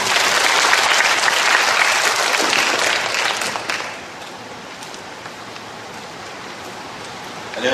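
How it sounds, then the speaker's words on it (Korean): Audience applause at a high school admissions information session, a dense rain-like clatter of many hands for about four seconds that then drops to a faint room murmur. "여러분 박수 부탁드리겠습니다."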